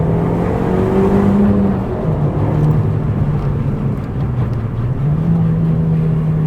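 A 2005 Audi TT Quattro Sport accelerating, downshifting and pulling again, its engine note rising and falling in pitch with shifts, heard steadily loud from inside the car.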